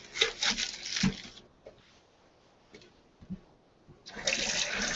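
Cold tap water runs while raw chicken is rinsed off, a steady splashing wash that is loud at the start, drops to quieter trickles and small splashes in the middle, then surges back strongly at the end.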